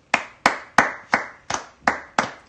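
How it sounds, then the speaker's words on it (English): Eight sharp hand claps at a steady rhythm, each one crisp and close, alone with no talking, during a nighttime nail art challenge judging panel. "that was a real clap"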